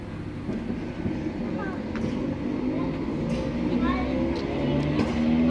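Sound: coupled Class 320 train departing the station

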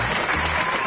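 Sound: applause sound effect played by the studio technician

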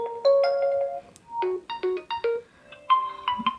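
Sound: alarm ringtone playing on Realme C65 5G phone

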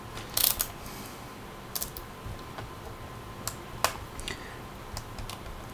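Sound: unscrewing a Phillips head screw on Asus P45VA laptop

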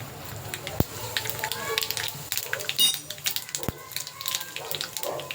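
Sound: mustard and cumin seeds sizzling in hot oil

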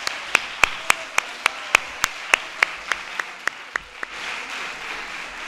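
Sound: audience applause for the speech

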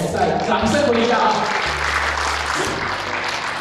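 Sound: audience applause

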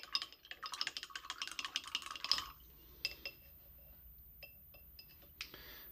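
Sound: glass tapping and water sounds

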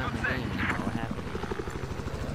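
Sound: helicopter in a video game

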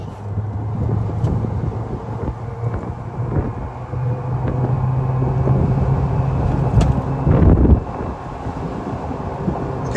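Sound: Vibe EV Flex 4 electric golf car AC motor whine

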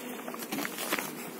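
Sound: honeybees buzzing

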